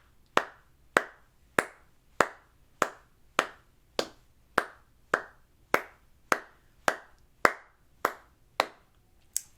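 Hand claps on steady quarter notes during a flute practice lesson, about sixteen crisp, evenly spaced claps in a firm beat, close and alone with no talking.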